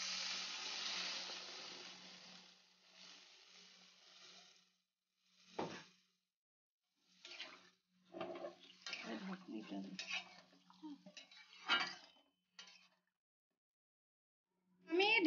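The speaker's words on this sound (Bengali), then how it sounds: "এবার গ্যাস কমিয়ে জল দিয়ে দেব, গরম জল দিয়ে দেব।" Hot water pours into a pan of mutton and potato curry cooking over a lowered gas flame, giving a steady hiss for about four seconds before scattered utensil clinks and scrapes follow.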